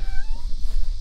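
On an Iowa family farm, a cat gives a short, high meow over a loud rumbling wind-like background.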